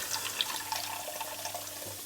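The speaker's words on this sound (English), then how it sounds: "we're going to add our cup of water" About 100 ml of water is poured from a cup into a cooking sauce, a soft continuous trickle with a few light splashy drips, fairly quiet and without speech.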